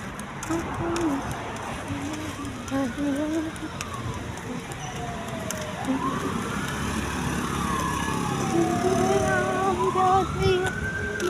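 An ambulance siren wails in long rising and falling sweeps, moderately distant and growing steadier, over constant street and traffic rumble during a morning walk.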